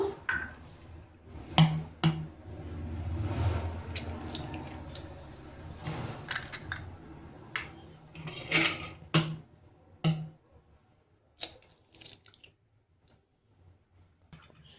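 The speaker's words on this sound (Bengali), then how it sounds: "এখানে আমি 6টা এগ ফাটিয়ে নিয়েছি।" Six eggs cracked into a bowl in a home kitchen while making butter garlic eggs: a scattered run of sharp shell cracks and clicks with small wet drips and squishes, close and fairly quiet.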